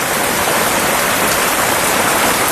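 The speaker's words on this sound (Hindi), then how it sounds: "बड़ी भयंकर बारिश हो रही है।" Heavy rain pours down steadily, a loud, dense, unbroken hiss with no voices.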